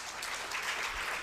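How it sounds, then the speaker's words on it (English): A crowd at an awards night claps in a steady, dense round of applause, brief and moderately loud. "A big round of applause."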